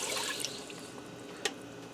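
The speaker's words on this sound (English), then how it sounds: "in my preheated pressure cooker I'm going to add in a half a cup of water" Half a cup of water poured into a preheated pressure cooker gives a faint, steady hissing splash with a small click midway, short and quiet.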